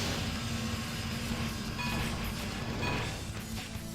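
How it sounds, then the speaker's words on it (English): Rhino trains from the video game Sonic Heroes roll along rails with a steady, dense rumble and metallic rattle, continuous and fairly loud for the whole stretch with no talking. "So yeah, the Rhino trains."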